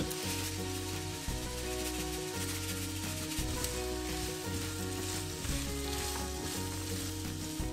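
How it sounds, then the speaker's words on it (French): Onion and bell peppers sizzling in olive oil in a frying pan, a dense continuous crackle heard close up under a steady background of soft music. "on y fait revenir notre oignon et nos poivrons une dizaine de minutes avec un peu de sel"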